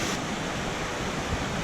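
A waterfall cascades over a cliff in the mountains of western North Carolina, a constant broadband roar of falling water close by, steady and unbroken.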